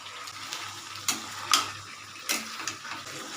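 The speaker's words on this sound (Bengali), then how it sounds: "এখানে একটা অর্ধেক করে পেঁয়াজ কাটা আছে আর একটু ভেজে দিলাম" Halved onion and garlic cloves frying in a pan, giving a faint steady sizzle broken by a few sharp spatula clinks and stirring scrapes, with no talk over it.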